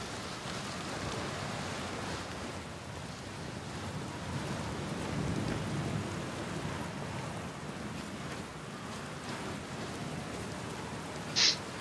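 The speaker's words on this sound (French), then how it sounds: "Un orage." Steady broadband rumble of rain with low thunder-like swells from a thunderstorm in the video game Outer Wilds, continuous and fairly close, with a brief sharp high chirp near the end; no talking.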